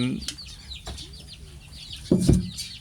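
Free-range backyard chickens cluck in short, scattered calls, with a louder burst near the end, while a person talks faintly in the background.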